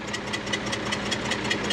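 Caterpillar D9G bulldozer diesel engine running, a steady close rhythmic knocking idle with regular pulses and no voices.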